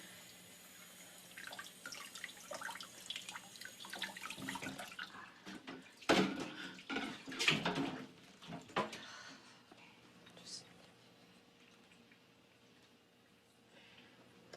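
A burned hand is held under running tap water in a sink, a steady broadband rush with a louder splashing burst in the middle as the hand moves through the stream, then fading to a softer flow.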